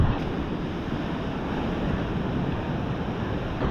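Ocean waves wash onto a beach on Koh Phangan in a steady, broad roar with no distinct breaks, heard up close with some wind buffeting the microphone.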